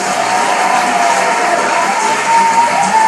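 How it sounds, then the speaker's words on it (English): An audience cheers and claps at a live show taping, a loud continuous wash of crowd noise with whoops and clapping, some voices shouting within it. "Round of applause."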